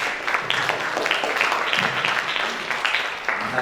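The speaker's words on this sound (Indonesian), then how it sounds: "beri tepuk tangan dulu untuk semuanya" Applause from a seminar audience at a youth seminar in Koja, North Jakarta, a dense, steady wash of many hands clapping at moderate distance, continuous throughout with no voices over it.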